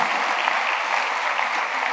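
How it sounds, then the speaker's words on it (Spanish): A church congregation applauds during a Sunday school service in a cathedral, a dense, even wash of clapping that holds steady from start to finish. "juntos vamos a aplaudirle"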